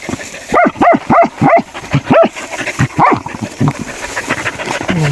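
A dog barks in a rapid series of about eight loud, close barks with a few softer yips trailing off at the end.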